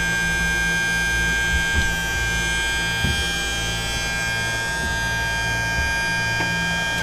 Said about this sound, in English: this noise you're hearing now is just the pre-oiler pump